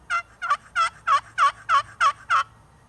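Hand-operated turkey call imitating a wild turkey, a run of eight evenly spaced raspy yelps, close and clear against a faint low background hum.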